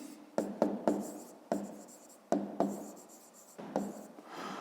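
Pen or pencil writing an equation by hand on paper during a fifth-grade maths exercise, heard as close scratchy strokes in short bursts with brief pauses between them, no talking.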